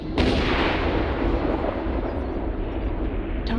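Airstrike artillery explosions in the MechWarrior Online game, a loud rolling barrage of booming blasts that starts abruptly and rumbles on for several seconds before cutting off.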